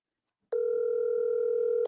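A telephone rings out on an unanswered call, playing a single steady, loud electronic tone that starts abruptly and holds unbroken until the end.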